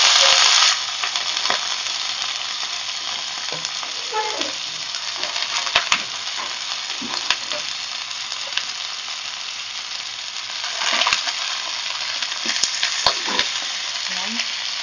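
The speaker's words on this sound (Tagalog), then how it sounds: "So, lagay na natin yung pork." Pork pieces on the bone sizzle loudly in a pan for adobo, a dense, steady hiss with a few sharp clinks and scrapes scattered through it.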